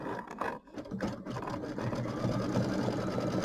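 A sewing machine runs an E-stitch appliqué around fabric with thread matching the fabric color, giving a close, steady mechanical whir that hums continuously with only a brief dip near the start.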